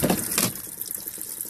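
Water runs from a tap into a Panda washing machine, a steady rushing splash with a brief louder burst near the start, close and moderate in level.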